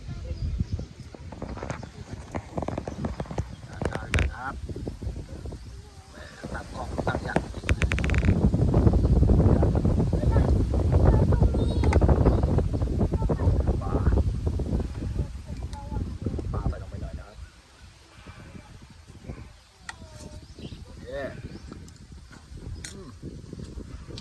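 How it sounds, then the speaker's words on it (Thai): Strong wind buffets the microphone outdoors beside a charcoal stove grilling fish, a low rumbling roar of gusts that swells through the middle and eases off, with talking at times. "ลมแรงมากวันนี้"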